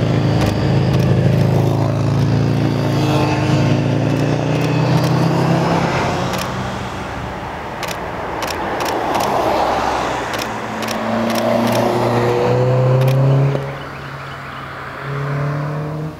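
Vehicles pass one after another along the Dragon mountain road, engines rising and fading in sweeping bursts with some revving, loud and close throughout.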